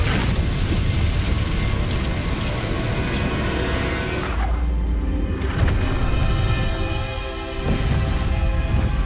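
The Incendio fire spell in the video game Hogwarts Legacy bursts with deep whooshing booms over a roaring, crackling bed of sound, loud and continuous with a few sharper swells.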